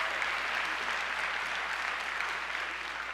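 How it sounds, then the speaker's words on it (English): An audience applauds steadily, a dense wash of clapping at even loudness throughout with no voices. "she's quite proud of it, and she gets applause."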